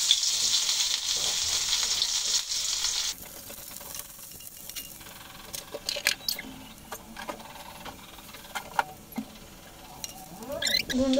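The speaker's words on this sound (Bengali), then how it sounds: "এখন পেঁয়াজ, রসুন আর কাঁচা ঝাল ভেজে নেব।" Onion, garlic and green chili frying in hot oil in a kadai, a strong steady sizzle at first that drops to a softer crackle with scattered stirring clicks and scrapes.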